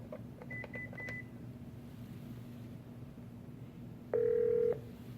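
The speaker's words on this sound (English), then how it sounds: "by pressing 8, you'll get the outbound dial tone to place your call" A few short keypad beeps as 8 is pressed on a classroom phone, then a steady electronic outbound dial tone sounds for about half a second over a low background hum.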